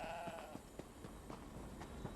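A sheep in Elder Scrolls Online gives a short, faint bleat at the start over quiet game ambience, followed by soft scattered clicks.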